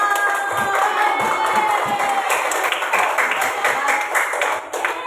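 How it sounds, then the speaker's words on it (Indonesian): A school class applauds, a steady burst of many children clapping at close range with some cheering and shouting mixed in throughout. "tepuk tangan"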